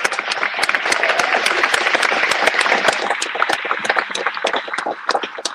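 An audience at an International Day of Peace event with Roots and Shoots bursts into steady applause. The dense clapping stays loud and continuous throughout, with no voices over it.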